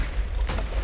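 A heavy explosion in the video game Battlefield fills the moment as a deep, rumbling boom, loud and dense, with a brief sharper burst partway through.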